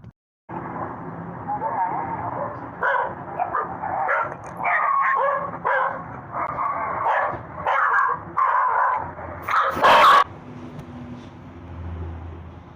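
A dog barks and yips in a rural village area near a hillside path. Several sharp, close barks are spaced through the clip amid busy background noise and some talk, with a louder burst near the end.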